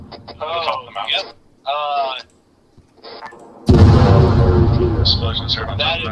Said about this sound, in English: Explosions are on that the is ground. Multiple explosions.